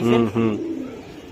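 A pigeon at a racing pigeon seller's coos once in a close, throaty rolling call that fades after half a second, with faint voices around it.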